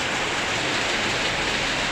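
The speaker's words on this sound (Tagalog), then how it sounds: "Nakakabingi yung tama doon sa yero. Lakas ulan." Dense, roaring downpour from a passing typhoon hammering a tin roof, a constant loud hiss with no pauses or voices.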